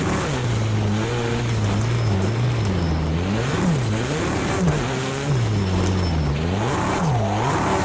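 A race car engine in a VR racing game drones and revs steadily, its pitch sweeping up and down through gear changes and corners, loud and continuous with no talking.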